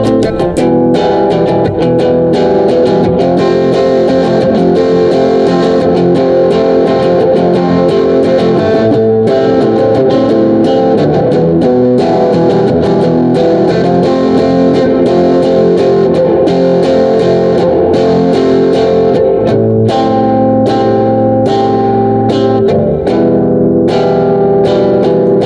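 An electric guitar played through a Peavey combo amp, either an Audition or a Decade, rings out with a dense, distorted, boxy midrange tone, strummed continuously and loudly with rapid picked attacks and no voices.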